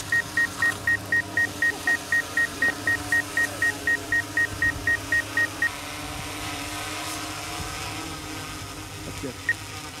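A DJI drone controller sounds a rapid, steady string of identical short electronic beeps for several seconds outdoors on icy ground, then falls silent apart from one lone beep later, with faint background noise throughout.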